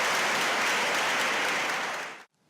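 Students on a university campus applaud a presidential visit with a dense, even wash of clapping that continues for about two seconds and then cuts off abruptly.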